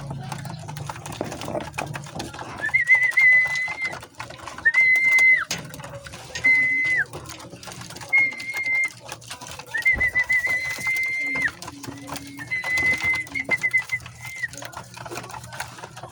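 Repeated soft whistling calls rise and hold in short bursts against a quiet background hum, with faint clatter and brief voices between them.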